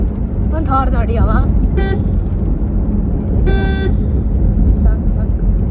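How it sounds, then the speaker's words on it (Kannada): Car horns blare in busy road traffic, with one short honk followed by a longer, louder toot a couple of seconds later, over a constant engine and road roar. "ಒಂದು ಹಾರ್ನ್ ನೋಡಿ ಅವ."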